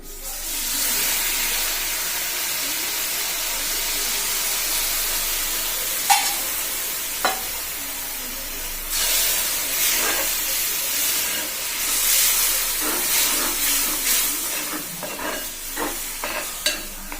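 Tamarind water for a sadya ginger curry is poured into a hot pan, setting off a steady loud sizzle and hiss with occasional spoon taps and stirring scrapes near the end.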